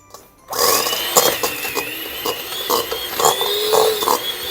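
Electric hand mixer whipping tiramisu cream with a little vanilla added: a steady high motor whine that starts abruptly after a brief quiet, close and loud, with rhythmic swells as the beaters move through the bowl.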